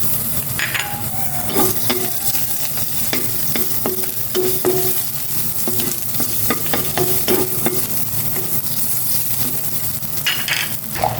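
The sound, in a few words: garlic being sautéed in a pan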